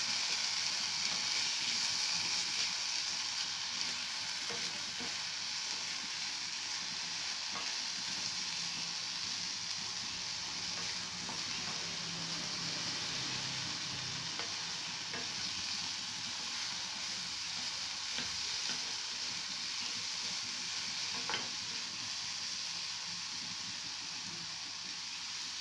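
A cauliflower and egg scramble fries in a pan with a steady, even hiss that sounds almost like light rain, plus occasional faint clicks, all through.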